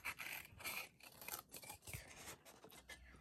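Big, slightly dull scissors cut rectangles out of a craft material for chapstick holders: repeated close, soft snips and rasping scrapes come in an uneven rhythm, quiet, with no voices.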